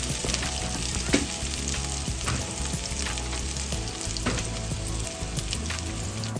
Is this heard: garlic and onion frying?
yes